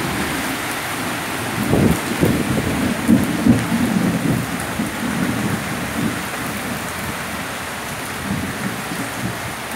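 Steady rain falls throughout, with low rumbling thunder swelling around the second and third seconds before settling back into a continuous wash of rainfall.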